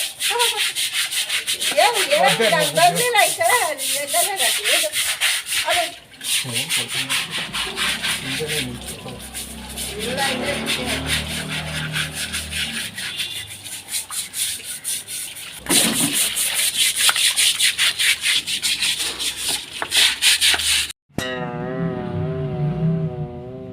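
Clothes are scrubbed by hand in close, rhythmic rasping strokes that continue with only brief pauses, and a voice is heard briefly near the end.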